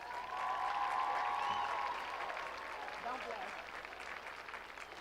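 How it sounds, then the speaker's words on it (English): A large outdoor crowd at a high school graduation applauds a staff member, producing a steady broad roar of clapping with a few cheers and whistles over it, easing slightly toward the end. "Let's give Mr. Dunn a huge round of applause."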